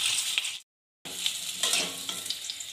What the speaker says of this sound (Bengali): আমি প্রথমে আলুগুলো ভেজে নিচ্ছি।